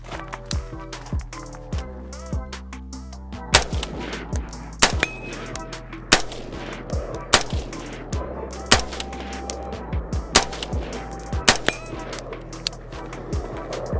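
Unsuppressed rifle shots fired downrange at a steel target about 50 yards away, a string of sharp, loud cracks at irregular intervals, some in quick pairs, with faint steel pings and outdoor ambience between them.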